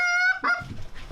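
Geese honking loudly and close during a goose hunt, a run of harsh nasal calls in quick succession followed by fainter, rougher honks and flapping-like noise.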